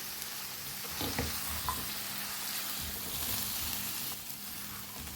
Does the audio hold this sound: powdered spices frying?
yes